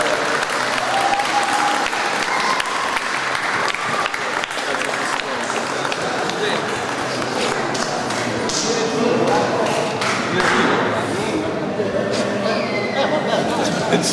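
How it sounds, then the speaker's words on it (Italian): Sustained applause and clapping from a crowd at a cycling club's thanks celebration in Taggia, steady and fairly loud throughout, with murmured chatter and voices mixed in beneath. "È un applauso."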